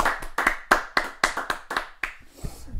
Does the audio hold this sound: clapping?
yes